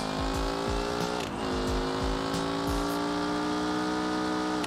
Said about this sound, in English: Let's hit the nitrous in second